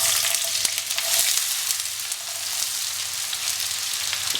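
Sliced onions fry in hot ghee for Punjabi chicken rara curry, giving a loud, close, continuous sizzle and crackle with occasional sharper pops and no voices.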